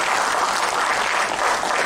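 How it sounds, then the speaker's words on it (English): An audience at a formal MOU signing ceremony applauds in a steady, dense wash of clapping that holds at an even level throughout, with no voices. "So we need to clap for him."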